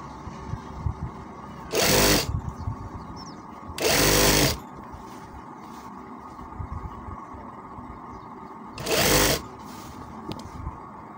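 A sewing machine stitches a kameez pocket in three short, loud bursts of rapid whirring, each lasting about a second, separated by quiet stretches of faint handling noise.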